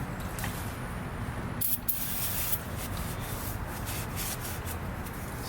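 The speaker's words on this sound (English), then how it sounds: "I've got some brake cleaner here. Just going to use some to clean it up a little bit more." Hissing brake cleaner spray in short bursts up close on a trailer hub, mixed with faint rubbing and scraping sounds.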